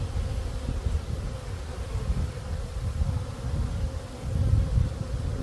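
Honeybees swarm and buzz around an open hive during a cool pre-winter inspection, a dense steady hum from many insects close by, swelling slightly at times with no talking.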